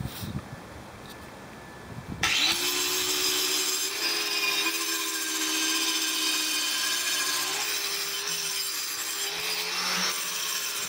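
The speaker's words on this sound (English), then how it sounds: "whether you're sanding or using your grinder or whatever, you don't want to nick the surface that was turned" A power tool sanding or grinding a brake drum starts up after a brief rustle and runs as a loud, steady abrasive whine and scrape for about nine seconds, close and with no talk.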